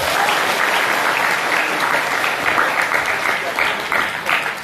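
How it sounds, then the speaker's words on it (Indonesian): An Indonesian audience applauds for Indonesia at a seminar, a loud, continuous wash of clapping from many people that stays fairly even throughout. "Tepuk tangan untuk Indonesia."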